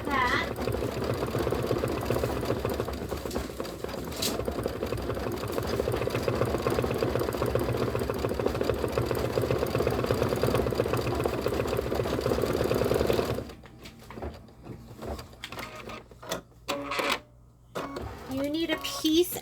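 An embroidery machine stitches out a design, a steady dense mechanical whirr running for about thirteen seconds before stopping, followed by quieter handling noises and brief talk.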